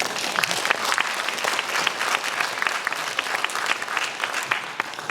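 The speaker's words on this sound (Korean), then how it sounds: "경남에서는 상상할 수 없는 박수 소리예요." A lecture audience applauds loudly and continuously in dense, even clapping with no voices, a warm ovation filling the hall at a garden lecture.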